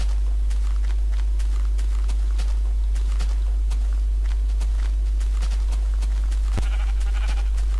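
Minecraft sheep bleating in a grassy area, a few short bleats heard alongside repeated soft footstep clicks over a constant low hum.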